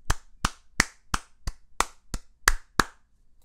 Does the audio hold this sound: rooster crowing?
no